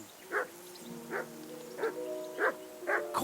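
Five spaced barks and yips from a dog in the medieval game Kingdom Come: Deliverance II, sharp and near, with whining tonal tails trailing after each one and no talk.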